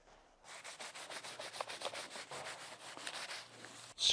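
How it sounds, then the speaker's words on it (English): A detailing polisher gets scrubbed with APC cleaner in quick, rhythmic back-and-forth brush strokes, close and fairly quiet, ending with a sharp bump. "Scrub it down."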